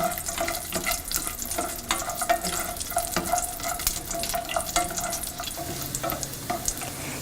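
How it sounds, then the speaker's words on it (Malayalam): Cashew nuts and raisins roast in a pan for carrot payasam, giving a soft continuous sizzle with frequent light clicks and scrapes of stirring, fairly quiet and with no voices. "കാഷ്യൂ നട്ട്സ് ഒരു ലൈറ്റ് ബ്രൗൺ കളറാവുമ്പോൾ ഇതിലോട്ട് നമ്മൾ എടുത്തു വച്ചിരിക്കുന്ന റേസിൻസും കൂടിയിട്ട് റോസ്റ്റ് ചെയ്തെടുക്കുക"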